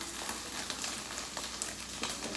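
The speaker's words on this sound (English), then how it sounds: "Keep sauteing them. Get them a little browner." Canned mushrooms sautéing in a pan give a steady, moderately quiet sizzle with faint crackles and occasional soft stirring scrapes, no voices.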